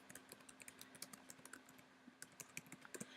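Fingers tap steadily on a computer keyboard, giving soft, close, evenly spaced key clicks that speed up slightly toward the end over a low, steady hum.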